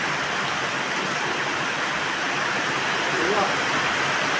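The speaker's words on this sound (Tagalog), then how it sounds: "Yan, lakas nga po ng ulan." Heavy rain falls in a steady, dense hiss that stays loud and even throughout, with no breaks, and a faint voice is barely present beneath the downpour.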